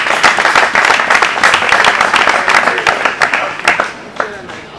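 Audience at a political mobilisation rally clapping in a loud, close burst of applause that starts dense and gradually thins into scattered individual claps, with faint speech beneath.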